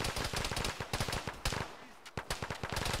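Rapid gunfire in Arma 3 with ShackTac players: bursts of automatic and single shots crack in quick irregular succession, loud and close, with a short lull before firing resumes.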